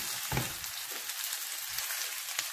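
Shrimp fried rice crackles and hisses in an oiled pan as it is stirred, a continuous close sizzle with soft scraping strokes and no speech.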